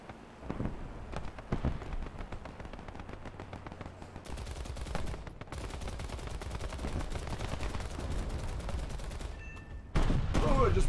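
Aircraft guns firing in a video game, a long, steady rattle of rapid machine-gun fire, moderately loud and continuous with a brief break near the end, with some talk underneath.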